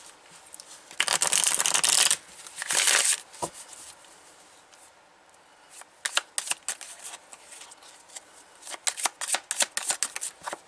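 Oversized oracle cards shuffled close up, loud riffling bursts early then a stretch of softer flicking and sliding taps, with no talking.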